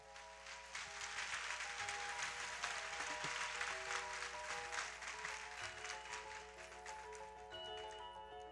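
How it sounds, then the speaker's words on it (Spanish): A church congregation applauds a couple during a ceremony, a faint, steady patter of many hands clapping at a distance over a sustained, humming tonal background. "vamos a darles un aplauso a ellos"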